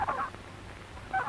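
A turkey gobbler calls on a 1930s poultry farm, giving two short, reedy bursts of gobbling, one at the start and one at the end, with a thin, quiet background between them.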